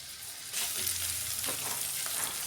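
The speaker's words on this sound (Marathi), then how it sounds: "हे आपल्याला मीडियम गॅसवर लालसर होईपर्यंत परतून घ्यायचंय" Chopped onion and coconut frying in a tablespoon of oil over medium gas, a close continuous sizzle that swells as stirring begins, with no talk.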